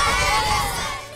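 Loud crowd chanting slogans at a Kashmir Solidarity Day rally in Karachi, Pakistan, a dense roar of many voices that fades slightly toward the end.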